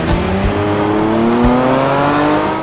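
Tyres squealing on race cars in Project Gotham Racing 4, with rising engine tones and a steady dense roar running loudly throughout, no talking.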